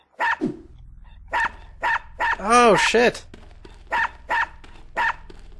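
A dog barks repeatedly in the video game Unepic, sharp evenly spaced yaps close up, with a man's loud exclamation breaking in midway over a low game hum.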